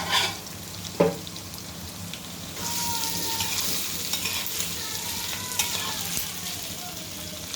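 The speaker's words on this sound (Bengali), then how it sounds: "লাল লাল করে ভাজা হয়ে গেছে, এবার বড়িটা দিয়ে দেবো" Local jiol fish and boiled lentil dumplings frying in a pan, a steady close sizzle with stirring scrapes and a sharp clink near the start, no talk.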